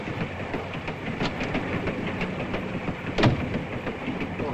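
A European passenger train runs steadily with a dense, continuous rumble and faint rhythmic clatter of the rail cars. A single louder knock comes near the end, and no one talks.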